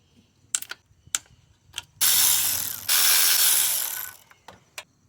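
A hand ratchet clicks rapidly while undoing bolts to take off the power steering pump of a 2004–2012 Nissan Murano AWD. Short bursts of close, loud ratcheting are separated by a few isolated metallic clicks.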